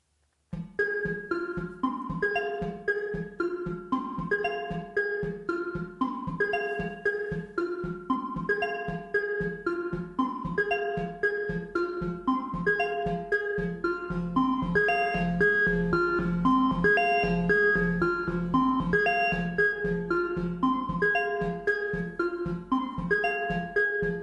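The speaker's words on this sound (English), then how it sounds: "So when higher notes are played, an increased amount of the reverb effect is added to the sound." Korg Volca Modular synthesizer playing a steady looping sequence of plucky notes, the higher notes carrying noticeably more reverb tail while the bass stays drier, continuous and alone with no talk.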